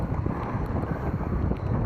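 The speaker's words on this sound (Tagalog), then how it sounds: "May hangin-hangin ngayon kaunti." Wind gusts across a small fishing boat out at sea, a steady broadband rush buffeting close to the microphone for the whole moment without letting up.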